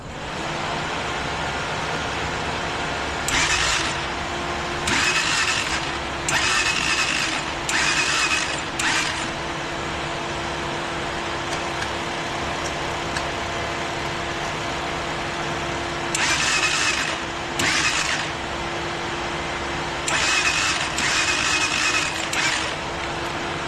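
Yamaha YFZ250 quad engine cranking without spark: repeated short bursts of mechanical whirring from the starter that never catch, separated by pauses over a faint background hum.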